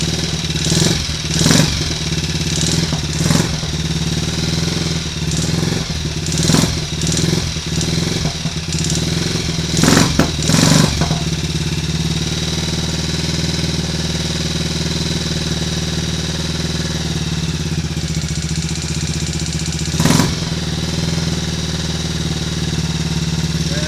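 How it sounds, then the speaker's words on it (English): A Triumph Tiger Cub motorcycle single-cylinder engine, with slightly retarded ignition timing, idles steadily and close while warming up, broken by several sharp throttle blips in the first half and one more near the end. "We're running. I'm going to get it warming up a little, get some oil pumped around."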